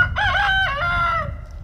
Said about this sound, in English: We got a new rooster on the farm